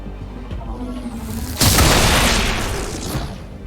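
A loud explosion blowing up a large turret in XCOM: Chimera Squad, a heavy boom that bursts in and rumbles down over a couple of seconds above a low background drone.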